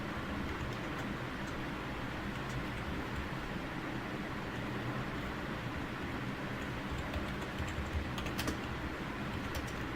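A computer keyboard clicks in steady, quick keystrokes, close and fairly quiet, running continuously over a soft background hiss with no talking.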